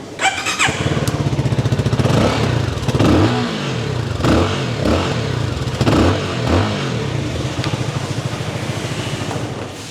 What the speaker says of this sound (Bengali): এক্সস্টের সাউন্ডটা আপনাদেরকে একটু শোনাই